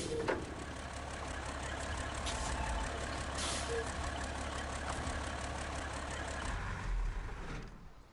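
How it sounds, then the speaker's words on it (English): A heavy truck engine rumbles steadily in the SnowRunner game, with short air-brake hisses near the start and middle and a louder release burst near the end, all alone without talk. "So I'll park this truck up out the way"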